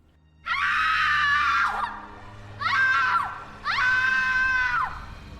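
A woman's heart-rending scream as a horror-story sound effect, three long wailing cries in a row, loud and close, with brief gaps between them and nothing else heard.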